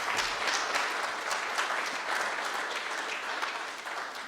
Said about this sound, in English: I think a round of applause there for Danny